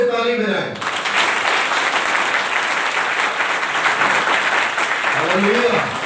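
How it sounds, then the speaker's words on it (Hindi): A church congregation claps loudly in unison, a dense, full roar of hands that holds steady. A voice speaks briefly at the very start and again near the end. "सब लोग जो हैं जोर से ताली बजाएं।"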